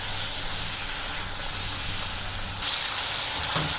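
Salt, red chilli and turmeric frying in a pan give off a continuous hissing sizzle with a low steady hum beneath, a slight shift in texture near the end as the pan is stirred.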